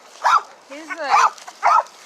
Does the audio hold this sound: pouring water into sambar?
no